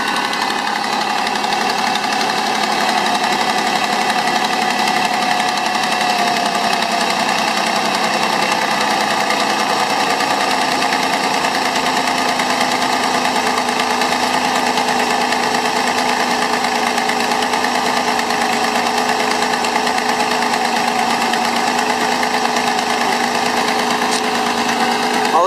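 A 1994 Mazda B3000 pickup idles after a cold start, its engine running in a steady, even drone close by for the whole stretch, with a faint higher whine layered over the rumble.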